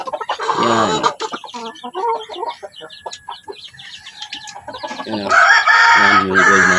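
A hen named Gold clucks repeatedly up close in a coop, with loud crowing-like calls and rising squawks in bursts, most intense toward the end.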